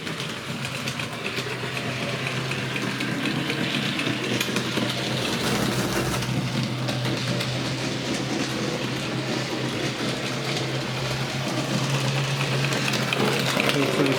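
A noisy Bachmann model train locomotive runs steadily through a tabletop layout, giving a close, continuous motor whir and rattle with a low hum underneath.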